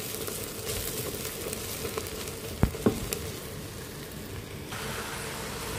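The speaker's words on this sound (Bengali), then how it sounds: "তো পেঁয়াজ আর রসুনটা আমি একটু ব্রাউন করে ভাজছি।" Chopped onion and garlic browning in mustard oil, a steady hiss of frying close by with a couple of sharp utensil clicks partway through, and no voices.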